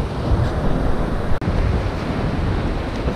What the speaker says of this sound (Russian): Посмотрите, какой сегодня красивый океан, спокойный.